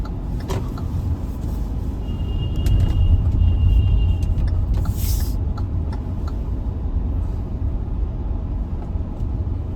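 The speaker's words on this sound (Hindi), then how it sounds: "काफ़ी ही ट्रैफिक है" Road traffic idles and moves at a busy signal, with a continuous low rumble of cars and larger vehicles, swelling slightly midway, plus a few brief higher tones over it and no talk.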